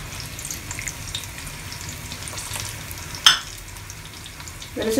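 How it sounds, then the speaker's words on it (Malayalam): Coconut oil for tempering a cucumber buttermilk curry goes into a heated pan with a faint, steady sizzling hiss, a single sharp clink partway through, and rising crackle at the end. "പാത്രം ചൂടായിട്ടുണ്ട്, നമുക്കിനി വെളിച്ചെണ്ണ ഒഴിച്ചു കൊടുക്കാം."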